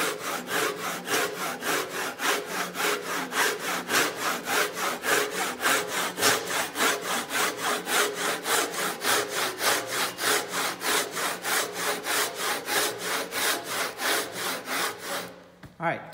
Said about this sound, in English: I've completed a diagonal cut from this corner down to this corner, corresponding to the cheek cut for my tenon.